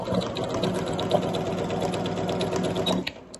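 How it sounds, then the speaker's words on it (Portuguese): A sewing machine runs steadily for about three seconds, stitching a zipper pocket into fabric, a close, even mechanical whir with a rapid needle rhythm that stops abruptly at the end. "a gente vai começar a costurar aqui, ó"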